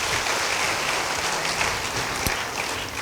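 A church congregation applauds during a Holy Communion sermon, a steady wash of many hands clapping for about three seconds, fairly even and moderately distant, with no clear talk over it.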